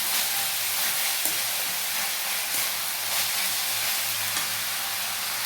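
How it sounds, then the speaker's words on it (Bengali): Boiled chickpeas and potatoes tipped into a hot frying pan, giving a loud, steady sizzle and hiss that runs evenly throughout with no voices. "এই যে আমার সেদ্ধ করে নেওয়া কাবলি ছোলা আর আলুগুলো, এগুলো আমি কড়াইতে অ্যাড করে দিচ্ছি।"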